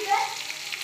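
Onions, garlic and slit green chillies fry in hot oil, giving a brief, soft crackling sizzle at moderate volume.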